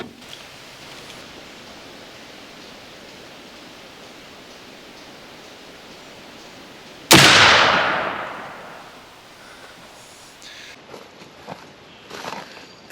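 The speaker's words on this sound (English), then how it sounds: "This is shot number 3 after the sight adjustment." A Thompson Center Hawken muzzleloader rifle fires a single loud shot outdoors, a sharp blast followed by a long decaying rumble, then faint rustling and soft movement sounds afterward.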